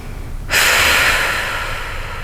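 A person takes one long, loud inhale close to the mic during a mobility stretching session, starting abruptly after a brief quiet moment and holding steady for well over a second.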